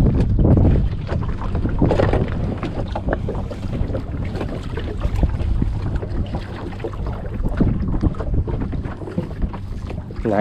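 Strong wind roars over the sea on a fishing boat, a loud, steady broadband rush with gusts and buffeting across the whole clip, waves and hull noise churning beneath.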